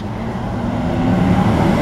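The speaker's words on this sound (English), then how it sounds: "Pardon the noise, a lot of traffic here." Steady traffic roar from a busy nearby road, a continuous low rumble that swells slightly toward the end, with no voices.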